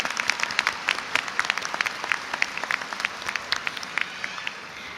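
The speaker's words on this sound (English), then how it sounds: "Let's give them a round of applause." A large crowd applauding at a Sam Houston State University commencement ceremony, dense sustained clapping filling a big hall, steady and fairly loud throughout.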